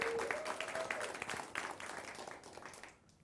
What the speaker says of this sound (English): could we give one more round of applause to these well-deserved honorees?